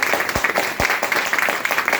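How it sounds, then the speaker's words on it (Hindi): Audience at a business plan meeting claps, with scattered, uneven hand claps and a few sharper close ones standing out from the rest. "हाँ जी, ताली बजा लो। यस, तो बजाओ ना।"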